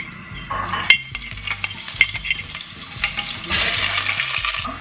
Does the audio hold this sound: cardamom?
yes